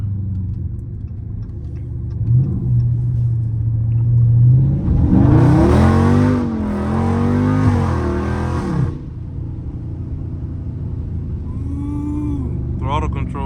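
A Dodge Charger Scat Pack engine revs up hard and roars through a drift, rising and falling in pitch before settling back to a rumbling idle, with tire squeal near the end.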